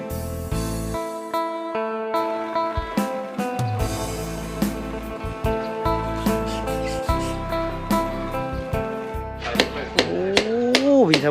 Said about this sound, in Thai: มาเห็นเพิ่นตีผ้า